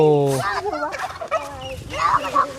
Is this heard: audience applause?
no